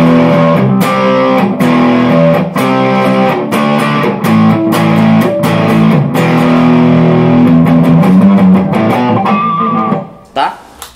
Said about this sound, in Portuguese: quando eu quero usar um som mais gordão na distorção, né, aí eu venho para esse captador aqui do braço